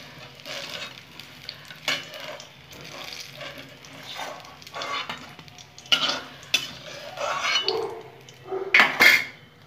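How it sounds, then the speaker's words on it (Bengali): Eggplant slices fry in hot oil in a pan with a steady sizzle, broken by scraping and clinks from stirring. No one speaks. "আর সবগুলো আমি এরকম করে লাল লাল করে আরও একটু ভেজে নেব।"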